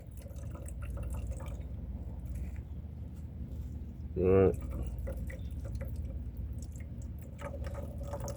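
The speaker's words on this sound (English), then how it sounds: "let's pour out whatever's in here." Liquid drips and splashes from a pressure washer carburetor after it is removed, a short pouring burst near the middle over steady background hum, with brief talk nearby.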